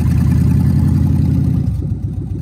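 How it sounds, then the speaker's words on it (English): A Dodge engine with no muffler idles loudly and roughly up close, a heavy throbbing rumble that eases slightly in level toward the end, with no talking over it. "So loud without that muffler"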